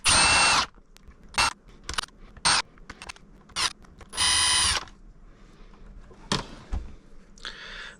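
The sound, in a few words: unscrewing screws from the BBS02 motor controller cover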